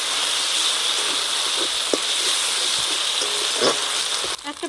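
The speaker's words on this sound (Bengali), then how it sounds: "মশলাটা ভালোভাবে কষিয়ে নেবে যাতে কাঁচা গন্ধটা চলে যায়" Spice paste sautéing in hot oil for a Bengali fish curry, a steady close sizzle and hiss with occasional stirring scrapes and spatters.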